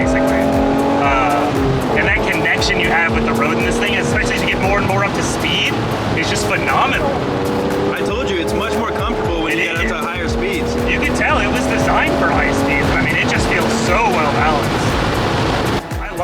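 A 30-year-old Acura NSX sports car driving on the road, its engine note rising and falling with gear changes, heard from close by over steady road and wind noise.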